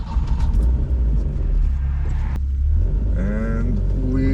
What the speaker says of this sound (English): Let's see how this 2002 Tii drives.